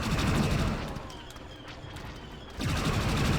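Sustained bursts of blaster fire from a gun in Star Wars Battlefront 2 (2005), loud and dense at the start, easing into a quieter stretch, then returning full force near the end, with no talk over it.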